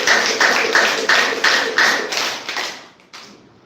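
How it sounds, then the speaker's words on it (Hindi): A group of people clap their hands as an exercise in a steady, even rhythm of about eight loud, close claps that trail off and stop near the end. "ताली बजाना है"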